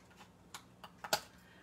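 Scissors cut paper while a Sizzix trinket box is assembled, a few faint crisp snips and rustles spaced unevenly, the last one loudest, with no talk.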